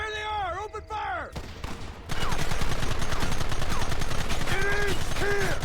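A Red Dead Redemption shootout erupts in dense, continuous gunfire, loud overlapping shots after a short stretch of shouting voices, with shouting returning near the end.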